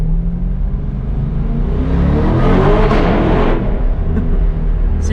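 A C8 Corvette engine revs up through a dual-clutch gearbox, a deep steady rumble rising in pitch and swelling louder before a brief shift and settling back, heard close from inside the car.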